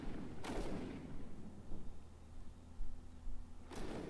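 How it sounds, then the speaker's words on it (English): Cannon fire in the DCS flight simulator during a Falklands ground attack mission: two sharp booming bursts, one near the start and one near the end, with a low rumbling drone between them and no talk. "I do like the cannon effect"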